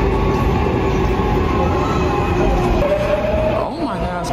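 Rumbling train noise fills a busy train station in Seoul, Korea, with a faint squeal and tonal hum rising near the end and voices murmuring in the background.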